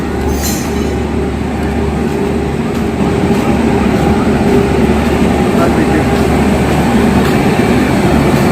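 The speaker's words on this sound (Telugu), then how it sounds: "ఎగ్జాక్ట్లీ 8:15కి కాట్పాడి రైల్వే స్టేషన్ నుండి డిపార్చర్ చూడండి" A train pulling out of Katpadi railway station, a loud continuous low rumble and rolling wheel noise that holds steady and builds slightly, with a brief high squeal near the start.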